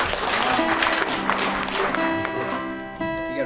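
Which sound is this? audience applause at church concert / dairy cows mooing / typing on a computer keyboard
audience applause at church concert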